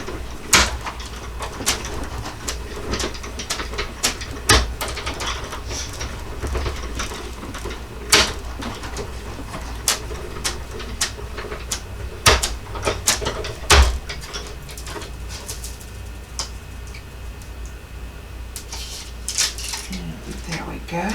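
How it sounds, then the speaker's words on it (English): Die cut machine cutting a circle as a plate is pushed through, with a run of clunks, clicks and rattling mechanical bursts that stay close and fairly loud throughout. "So just taking this to my die cut machine, and I'm pushing it through."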